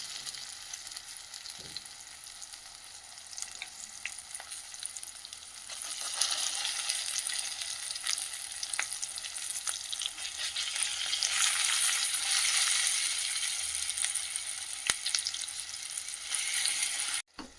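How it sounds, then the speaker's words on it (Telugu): Tempering sizzles steadily in a hot pan for ridge gourd peel chutney, a continuous bright crackle that swells louder partway through, with faint stirring clinks and no talking. "తాలింపు ఇట్లా తాలింపు వేసిందండి ఇట్లా పచ్చడి మొత్తం కలుపుకోవాలి"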